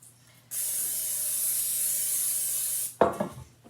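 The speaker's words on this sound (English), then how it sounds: "Pam spray." A steady, bright hiss of a Pam cooking oil spray can spraying for a couple of seconds, followed by a short clatter as it stops.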